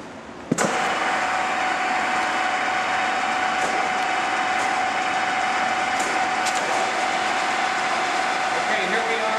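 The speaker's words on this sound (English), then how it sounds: "run the machine for us and take it through some of its paces" Cincinnati No. 2 vertical milling machine, Model 207MK, in mint condition after storage, switched on with a sharp click and then running as a steady, even mechanical hum with a faint whine, a few light knocks along the way.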